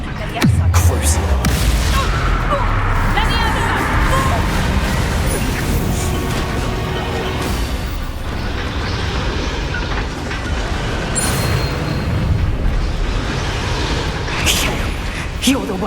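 In the Hogwarts Legacy video game, a Bombarda explosion spell goes off with a deep, heavy boom at the start. A rumbling battle bed follows under steady character dialogue.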